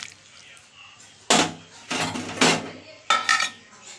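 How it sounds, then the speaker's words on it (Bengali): A metal lid clanks onto a cooking pot of chicken stew, followed by several sharp, close clatters of pot and utensil contact in quick succession. "এরপর আমি একটু ঢাকা দিয়ে দিলাম"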